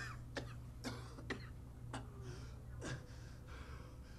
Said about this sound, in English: Gasping and coughing.